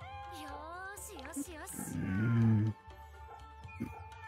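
A cat meows in the video game Fate/Samurai Remnant, with a few short rising cries and then a longer drawn-out growling yowl, heard over steady game music.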